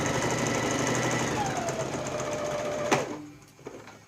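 A sewing machine stitches a seam with a fast, steady mechanical whir that runs for about three seconds, then stops abruptly, leaving a few faint clicks.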